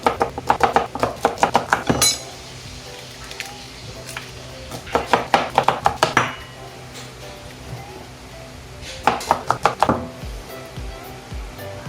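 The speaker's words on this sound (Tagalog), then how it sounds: "gayatin muna natin itong ating manga sa hugpa sa ating gata" A knife chops mango on a board in a home kitchen while cooking a coconut milk stew, in quick bursts of sharp taps separated by pauses, with some faint clatter of dishes and pans.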